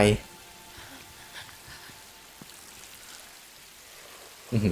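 Steady, soft rain falls in the Tomb Raider video game, a faint, even hiss with scattered drips, while brief bursts of a voice cut in at the very start and end.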